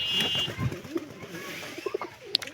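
Pigeons cooing softly in a loft among nesting birds and chicks, a few low coos and short calls close by, faint and intermittent.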